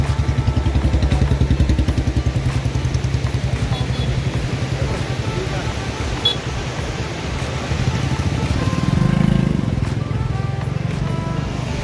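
Loud, steady engine drone of motorcycles bearing blue and saffron flags close by on the Hemkunt Sahib pilgrimage, with a rhythmic chugging and a swell as another one passes near the end.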